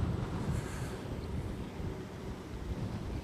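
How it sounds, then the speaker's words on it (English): Steady, rumbling wind buffets the microphone while riding a Segway MiniPro into a headwind, a continuous low roar with no break and no voices. "I'm fighting a headwind this way"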